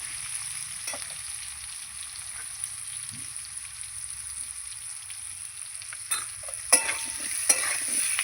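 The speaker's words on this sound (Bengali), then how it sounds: "এবার আমি এই তেলে কিন্তু আলুও ভেজে নেবো আলুটা লাল লাল করে আমি এই তেলে ভেজে নেব" Potatoes fry in salted oil in a pan with a steady, close sizzle throughout, and a few sharper clinks of stirring come near the end.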